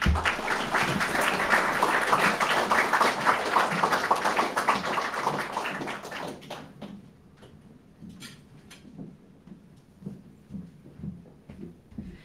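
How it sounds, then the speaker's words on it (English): Applause from a banquet audience at an opening dinner, dense and loud for about six seconds, then thinning into scattered individual claps and faint room noise. "One more round of applause, please."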